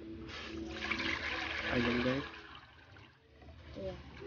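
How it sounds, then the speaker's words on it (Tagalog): Water pours into a cooking pot set over an open fire, a splashing gurgle rising and falling for a few seconds while someone talks casually over it. "So lalagyan natin guys ng tubig."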